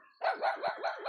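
Dogs greet someone in the morning with a short, close, wavering howl-like bark that rises and falls several times in about a second.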